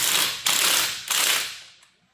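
A ratchet wrench works a lug nut on a Toyota Tundra wheel fitted with 24-inch rims: two close bursts of rapid metallic clicking, each about half a second long, then a shorter tail that fades out.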